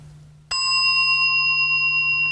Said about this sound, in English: Now the third sound of the bell.